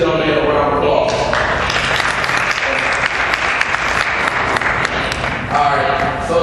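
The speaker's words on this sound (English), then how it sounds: "All right, so let's give this young man a round of applause." Audience clapping for a young man who has just presented at a STEM event, loud dense applause filling the room continuously, with voices mixed in.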